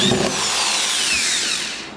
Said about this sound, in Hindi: तो अभी ये बन गया है एक पावर